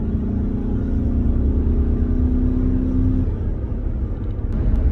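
A 2018 Chevrolet Silverado truck drives up a highway on-ramp, its engine and road rumble loud and steady from inside the cab, easing off near the end.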